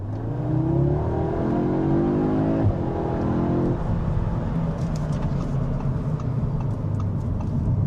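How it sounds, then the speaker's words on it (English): An Audi S3 Black Edition exhaust in dynamic mode, revving up through rising gears with a steady, loud, close engine roar that shifts pitch as it accelerates, with no talking. "You can just hear the exhaust note change straight away and go."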